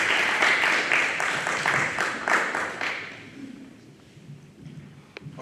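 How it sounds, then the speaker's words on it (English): Audience applause at a veterans' heritage ceremony at Oneida High School, honoring members of the armed forces: a full round of clapping from a crowd that holds steady, then thins and fades out after about three seconds. "Let's give one last round of applause for our brave men and women in the armed forces."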